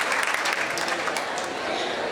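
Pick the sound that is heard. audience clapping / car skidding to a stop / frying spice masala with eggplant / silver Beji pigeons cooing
audience clapping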